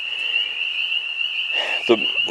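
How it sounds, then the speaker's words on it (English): Frogs croaking near rushing water, a steady high-pitched trilling chorus over a soft water wash, with a voice talking over the latter part. "all you could hear is any breeze, the water rushing, and then the frogs"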